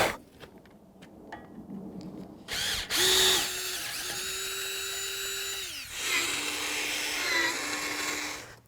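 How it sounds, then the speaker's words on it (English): A hand drill working during an urban logging trailer build, with a few light taps and clicks first, then a loud sustained whine that runs steadily, dips, and starts again close by. "hand drill time."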